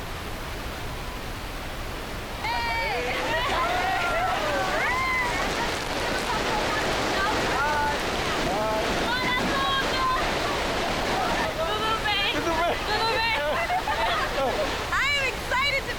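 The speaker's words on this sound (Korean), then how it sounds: "떨어지는 폭포수 옆에서 이구아수 폭포를 경험하는 일은 그저 신비롭고 즐겁다" Iguazu Falls crashes down from a great height beside a metal walkway on the Brazilian side, a constant broad roar. Several voices talk and call out over it for most of the stretch.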